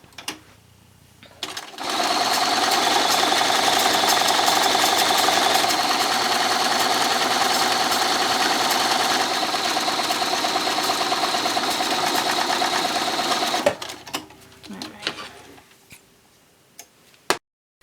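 A sewing machine stitches a jersey bag made from a T-shirt sleeve, running loud and close in one continuous whirring burst of about twelve seconds, with brief handling clicks before and after.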